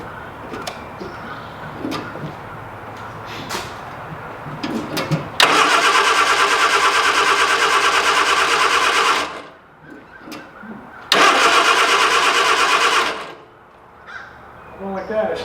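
An MG Midget's engine cranks in two loud, sustained starter bursts that fail to catch, the car smelling of fuel after an oil leak, with quieter clicks and shuffling before and between attempts.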